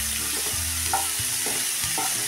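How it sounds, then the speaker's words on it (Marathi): Cauliflower florets stir-fried in a hot pan with garlic and green chilli for a cauliflower kheema, giving a steady close sizzle with scraping stirs of a spatula recurring every half second or so, no talk. "त्यामध्ये आता टाकूया हा फ्लावर आणि फ्लावर चांगला परतूया।"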